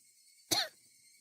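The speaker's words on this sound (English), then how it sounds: "That wasn't a normal coughing sound." A single short, harsh cough from a voice actor, heard as if over a phone line: one sharp burst in otherwise quiet, thin-sounding audio.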